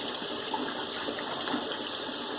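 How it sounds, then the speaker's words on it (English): Tap water runs steadily while hands are rinsed over a large bowl in a home kitchen during meatloaf prep, a continuous close gushing flow with small splashy variations and no talking. "I'm going to just rinse the hands off here"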